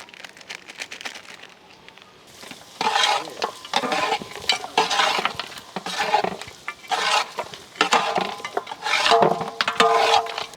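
Mutton with chili powder is stirred in a frying pan: loud, rhythmic scraping strokes of a spoon over a steady sizzle, close up, with no talking.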